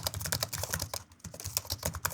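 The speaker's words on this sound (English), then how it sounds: "or typing on a keyboard." Fingers type rapidly on a computer keyboard, a dense close-up patter of key clicks with a brief pause midway, no voices.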